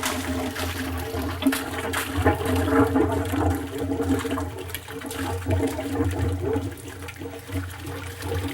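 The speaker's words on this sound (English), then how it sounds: "So I'm going to go ahead and turn the water on." City water rushing through the hoses of an HVAC flush cart during a flushing procedure on a Carrier/Bryant variable-speed water flow control, a steady turbulent gush with low rumble and gurgling, close and continuous.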